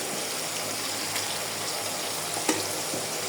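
Garlic paste sizzles in a hot pan with cooked onions, a close, steady frying hiss with a faint clink of a utensil near the end.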